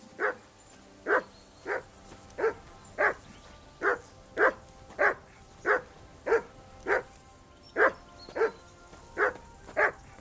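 Mutt, a dog in the medieval game Kingdom Come Deliverance 2, barks steadily and insistently, about fourteen sharp, evenly spaced barks close up with no talk over them.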